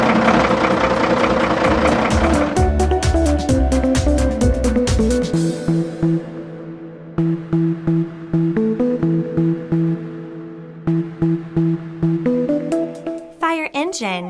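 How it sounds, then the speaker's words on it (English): A wheel-lift tow truck engine opens with a loud, dense roar, then settles into a rhythmic chugging idle with steady low pulses, ending on a brief sharp flourish. "Wheel lift tow truck."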